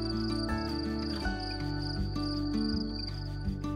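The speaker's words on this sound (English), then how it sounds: "the soft chirping of crickets" Crickets chirp in a steady, even pulse that continues with no break, heard over soft sustained background tones and no speech.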